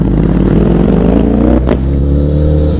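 A loud Ducati Panigale V4-R engine with an Akrapovic exhaust revs hard with a rising pitch, then briefly cuts before settling into a rough, throaty idle, close by.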